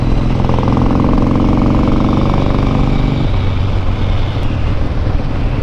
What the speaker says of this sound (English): The engine's clearing up.